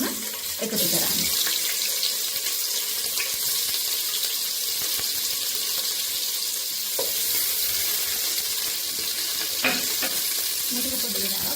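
Chicken curry pieces fry in hot oil for a chicken and spinach pasta, giving a steady, fairly loud sizzling hiss with occasional stirring clatter.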